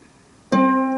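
Silence, then a single plucked harp string, middle C, rings out clearly and sustains, a near, bright mid-range tone.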